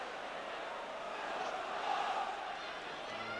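Football crowd at the Victoria Ground stadium during an FA Cup third-round match, a distant, steady murmur and roar of spectators swelling slightly midway, with no distinct chants standing out.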